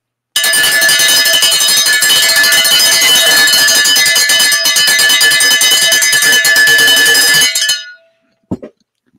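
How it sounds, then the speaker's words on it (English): A cowbell is rung loudly and rapidly for about seven seconds in a continuous metallic clatter, then stops abruptly, followed by a couple of faint stray knocks. "I got to ring the cowbell."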